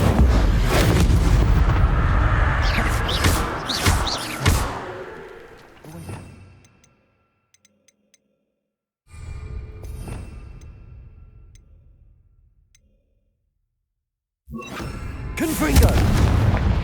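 A roaring whoosh of flame cast with the Incendio spell in Hogwarts Legacy, loud and dense, then fading into near silence before two more fiery bursts flare up, the last one near the end.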